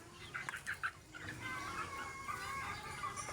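Several chickens cluck in short, close bursts as a hen has just laid an egg, followed by a steadier stream of softer clucking over a low background hum.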